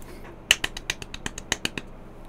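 A character in the Shadowrun Returns video game claps his hands, a quick run of about a dozen sharp, close snaps spaced irregularly over two seconds, with nothing else around them.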